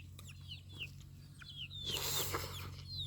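Chickens clucking close by on a Thai rural homestead, short repeated calls with other birds chirping in the background over a low steady hum.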